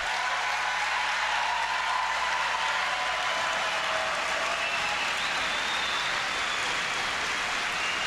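A large crowd applauds and cheers at a Donald Trump rally at the Birch Run Expo Center, a dense, continuous roar of clapping that holds steady at full strength from start to finish.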